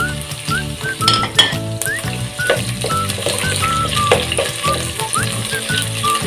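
Onion and garlic fry in a pan, a steady crackling sizzle running throughout with occasional clinks of a utensil against the cookware.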